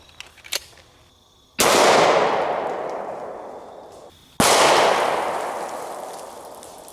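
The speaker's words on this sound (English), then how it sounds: "now let's hit it with a 45 ACP. We have a Springfield 1911 model A1" Two loud, close gunshots from a Springfield 1911 A1 pistol firing .45 ACP 230-grain +P jacketed hollow points at an Atlas stone, each a sharp crack with a long echoing decay, preceded by small clicks.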